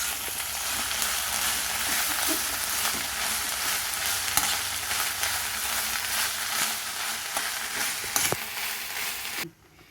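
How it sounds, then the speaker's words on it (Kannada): Drumstick leaves fry in a pan, making a loud, continuous close-up sizzle broken by scattered sharp crackles and stirring clinks, no talk, before cutting off abruptly at the end. "ಇವಾಗ ಸೊಪ್ಪು ಹಾಕ್ಕೊಳ್ಳೋಣ ಇದನ್ನೆಲ್ಲ ನೀಟಾಗಿ ಫ್ರೈ ಮಾಡ್ಕೊಳ್ಳೋಣ"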